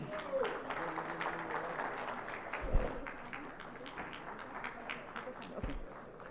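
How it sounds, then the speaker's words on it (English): Applause at India Maritime Week 2025 after the Chief Minister of Maharashtra is introduced, a fairly faint, scattered patter of clapping with a few louder thumps and voices speaking over it. "keep the applause coming"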